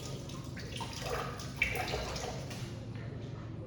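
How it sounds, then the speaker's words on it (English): Hands rinsed under a running kitchen tap, a faint, steady splash of water with a small clink partway through, alone and fairly quiet. "I'm just gonna rinse my hands."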